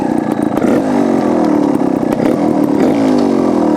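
Beta TR34 trials motorcycle engine pulling steadily in second gear, a loud, close, continuous buzzing drone with small surges in revs and no talk over it.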